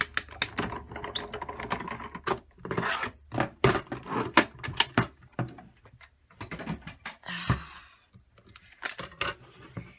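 Paper with a worn embossing plate cranked through a die-cutting machine, a close, irregular run of clicks, taps and ratcheting crunches with short pauses between bursts.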